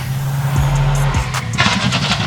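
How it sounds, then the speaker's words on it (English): A rally car in a West Australian Rally Championship round approaches at speed, engine note climbing and shifting through gears, then a burst of gravel spray and tire noise as it closes in loudly. "You can see this car coming towards us."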